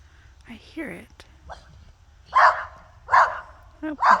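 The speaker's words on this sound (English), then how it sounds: "Oh, my neighbor dog." A neighbor's dog barks at night near a pasture on an eastern Oregon property, sharp barks recurring in a loose series at moderate distance, with quieter whimpering yips between them.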